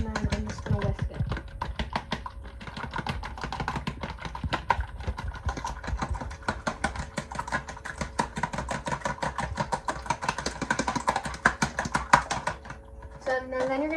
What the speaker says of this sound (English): then I'm just going to whisk it